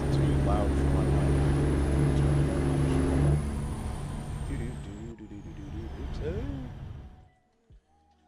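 A truck engine in American Truck Simulator drones loudly and steadily with low rumble, layered with cab noise and voices, then drops away abruptly near the end.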